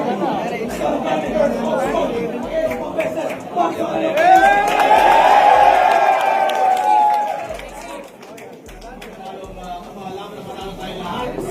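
Crowd at a FlipTop rap battle erupts in loud chatter and cheering that swells to a peak midway, then settles back into a busy murmur of voices.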